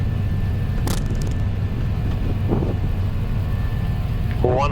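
Etihad Airbus A320 engines at takeoff thrust during the takeoff roll, a loud steady roar and rumble heard from the cockpit, with brief clicks and a short voice near the end.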